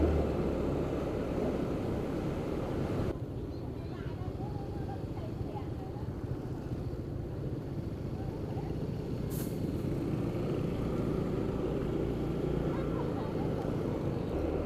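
Motorbike riding through busy Vietnam street traffic: a constant rumbling wash of engines and road noise heard from on the bike, with a brief horn-like tone partway through and mixed traffic all around.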